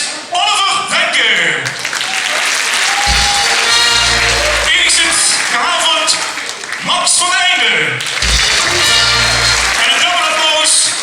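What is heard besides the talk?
audience applause at revue show opening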